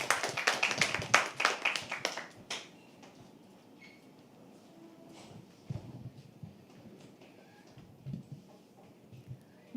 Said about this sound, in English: Keep clapping. A little more,